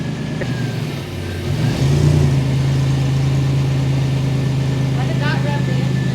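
A newly installed engine running just after its first startup, a steady mid-pitched drone that rises in a brief rev and then holds a constant loaded hum, with faint background noise.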